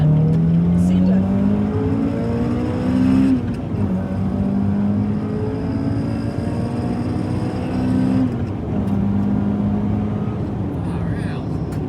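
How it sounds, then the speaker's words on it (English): A Honda Integra Type-R DC2 engine revs hard toward 8,000 rpm in two rising pulls, its pitch sweeping upward, then falling and climbing again, loud and steady throughout. "But there's something really neat about revving out to 8 grand."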